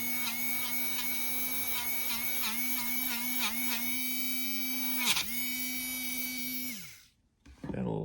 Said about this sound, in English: I like to take my little Scotch-Brite wheel here on my cordless rotary tool